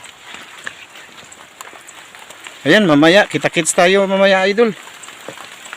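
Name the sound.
rain falling in the province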